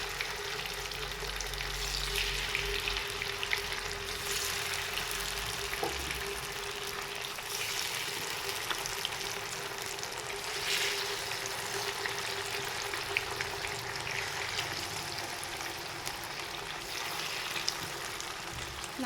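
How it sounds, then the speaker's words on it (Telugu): Masala-coated fish pieces fry in oil over a medium flame, giving a steady, close, continuous sizzle with faint stirring and spatter ticks throughout, no voices. "మీడియం ఫ్లేమ్లో పెట్టుకొని ఇప్పుడు మసాలా పట్టించిన ఫిష్ ముక్కలను ఇందులోకి యాడ్ చేస్తున్నానండి"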